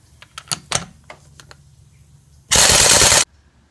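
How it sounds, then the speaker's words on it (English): Impact wrench zipping off lug nuts on a 2004 Porsche Cayenne's rear wheel: a few short clicks and taps, then one loud, sustained burst of hammering rattle lasting under a second, up close with no talk. "I've got an impact wrench just to make things a little faster"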